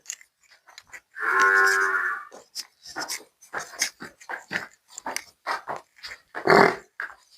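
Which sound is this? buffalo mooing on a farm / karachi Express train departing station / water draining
buffalo mooing on a farm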